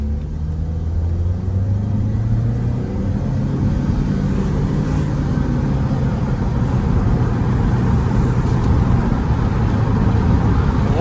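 Nissan Primera P12 accelerating at full throttle, a loud continuous engine roar rising steadily in pitch as the car pulls away, heard from inside the cabin with no talking.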